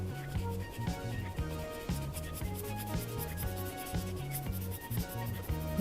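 A pen scribbles repeatedly to fill an area of a drawing solid black, a close rhythmic rubbing and scratching with short strokes, while background music plays.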